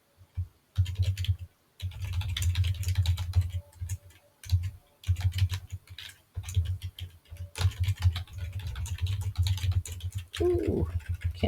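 Rapid, irregular typing on a computer keyboard, close and clear, in bursts of keystrokes with short pauses while filling in a small-business chart of accounts. No one speaks.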